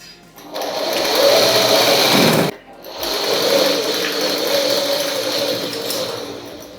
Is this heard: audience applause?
no